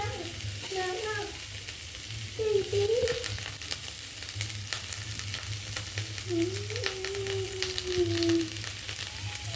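Onion and curry leaves sizzle and crackle in a frying pan, a constant close frying hiss with stirring scrapes, while someone talks over it.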